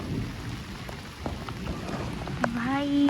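Heavy monsoon rain pours steadily in Sindh, Pakistan, a dense close hiss of drops on surfaces, with a brief tonal rising sound near the end.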